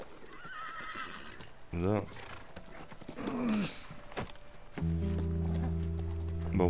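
In the PlayStation 4 game The Last of Us Remastered, a horse snorts and whinnies in loud bursts over rhythmic clip-clopping hooves, ending in a sustained, tonal neigh, with someone briefly speaking.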